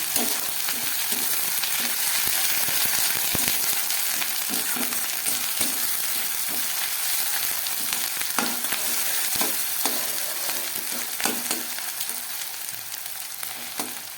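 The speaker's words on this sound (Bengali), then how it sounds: "আদা রসুন দেওয়ার পরে খুব ভালো করে এটাকে আমি একটু ভেজে নিচ্ছি" Garlic and ginger paste frying in a pan for aloo dum, a loud, continuous close-up sizzle with frequent spoon scrapes and taps as it is stirred, no voices.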